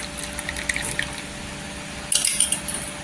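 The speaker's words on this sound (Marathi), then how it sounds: "मी इथे आहे ना ग्लासमध्ये ओतून घेते चहा" Hot masala tea pours into a glass, a steady close liquid stream that swells louder and splashier near the end, with no talking.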